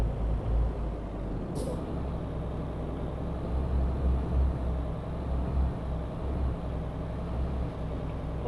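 A truck's air brake in Euro Truck Simulator 2 releases one brief sharp hiss early on, heard over a steady low engine drone that keeps running throughout.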